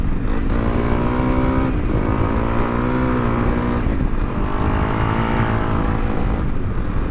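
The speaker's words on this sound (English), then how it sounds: "It is so much fun to ride along at a bit of a clip on a underpowered bike" A Honda CRF300L rally motorcycle with a small, underpowered engine drones steadily and close while being ridden briskly, its pitch dipping and rising briefly with throttle changes.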